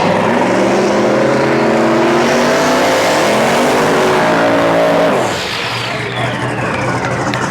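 Drag racing cars blasting off the line side by side at a Rocky Mountain raceweek event, loud sustained engine roar with rising pitch as they accelerate away, then fading to a distant whine down the strip.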